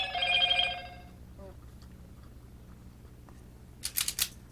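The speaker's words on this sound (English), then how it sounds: "You might hear my phone go off" Mobile phone briefly ringing at the start, a short bright tonal trill, followed by quiet room noise and a few faint clicks near the end.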